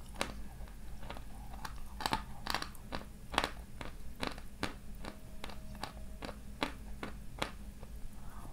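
Dry, dense pastila being bitten and chewed up close, producing a series of sharp crunchy snaps and crackles in an irregular rhythm against a quiet background, with no talk.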